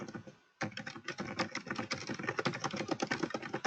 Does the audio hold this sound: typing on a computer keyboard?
yes